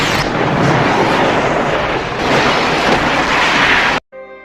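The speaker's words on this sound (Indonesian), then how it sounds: "Ray pun mengunci tangga dan menembaki tangki minyak di kapal. Hal ini menyebabkan ledakan yang membunuh sipir dan anak buahnya." A movie explosion as oil tanks on a ship are shot and blow up, a loud, dense roar of blast and rumble sustained for about four seconds before cutting off abruptly.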